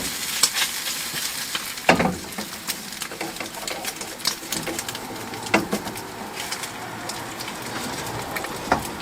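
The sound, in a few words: egg frying in a pan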